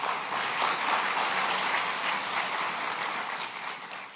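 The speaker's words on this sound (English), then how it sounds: "so let's give them another round of applause for them." Sustained audience applause at a police-community relations awards ceremony, a dense steady wash of clapping from a large crowd that holds strong throughout and tapers slightly at the end.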